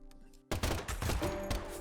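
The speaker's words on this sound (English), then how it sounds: "That was a lot of gunshot noises." Rapid bursts of gunfire in the video game Deadly Premonition 2, erupting suddenly after a quiet musical lead-in and continuing loud and dense, with overlapping shots and no talking.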